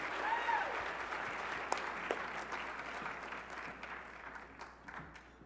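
A round of applause for nurses and frontline workers at the 2021 Upper Midwest Emmy Awards ceremony, fairly faint and distant, a steady patter of clapping that slowly thins toward the end.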